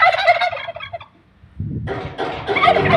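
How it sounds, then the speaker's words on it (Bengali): Loud gobbling calls from large chickens on a farm come in two dense, close bursts with a brief quiet gap between them. "বিশাল বিশাল মুরগি একটা খামারের ভিতরে"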